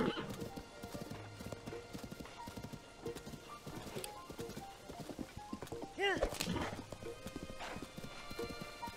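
Horse hooves clip-clop steadily in Zelda: Tears of the Kingdom as the horse rides along, with a neigh near the middle, game sounds, and a player talking over it.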